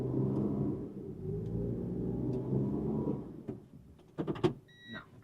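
A car stuck deep in a snowbank, engine straining with a low, labouring rumble under full throttle for several seconds, then easing off into brief clunks and whirring as the wheels are cranked back and forth.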